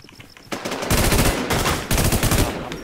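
Rapid automatic gunfire in the video game Infestation, two loud sustained bursts of close shots following a faint start, with no talking.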